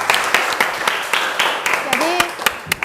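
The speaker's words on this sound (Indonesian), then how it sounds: "Tepuk tangan dulu" A classroom group clapping during a lesson on family building, a brief uneven round of hand claps with sharp individual slaps, while a voice speaks over it.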